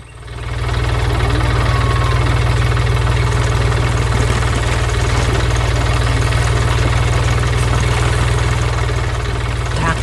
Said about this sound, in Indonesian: Lihat dia, traktor hijau yang sedang berada di dalam kebun yang penuh semangat.